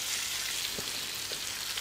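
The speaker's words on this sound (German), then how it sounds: "Und man hört es schon ein bisschen brutzeln" Grated potatoes for Swiss Rösti fry in a pan with a steady, even sizzle and crackle, close and continuous, with a few soft clicks from stirring or settling.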